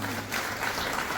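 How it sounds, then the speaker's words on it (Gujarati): An audience at a music evening claps to welcome an honoured guest, a brief, soft, steady patter of applause heard from some distance. "તાળીઓથી આપણે એમનું સ્વાગત કરીશું."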